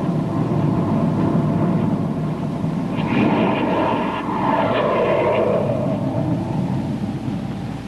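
Rocket ship jet firing for blast-off in a 1950 space adventure serial, a loud continuous roaring rumble with a hissing, swelling surge midway, steady throughout with no talk.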